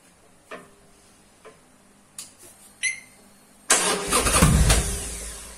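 An engine with a cut-open stock exhaust pipe is started: a few faint ticks and clicks, then the engine catches and settles into a loud, rough, rumbling idle for the last two seconds.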